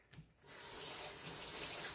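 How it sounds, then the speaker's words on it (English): Canned coconut milk poured into a pot for cornmeal porridge, a steady soft liquid rush that starts after a brief clink and keeps flowing at close range. "I'm gonna pour my coconut milk in there"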